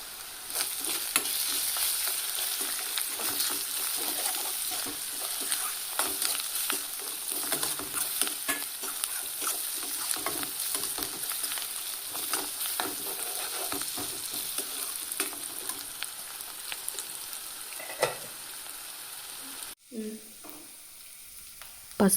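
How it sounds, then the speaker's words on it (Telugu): Chicken pieces with fried onions, ginger-garlic paste and turmeric sizzling in a pan for a Bengali-style chicken potato curry, a steady loud hiss with frequent scraping stirs and a brief clatter near the end. "పసుపు వేసుకున్న తర్వాత అందులో మనం కడిగి పెట్టుకున్న చికెన్ని వేసుకుంటున్నాం. వేసుకొని బాగా మిక్స్ చేయండి."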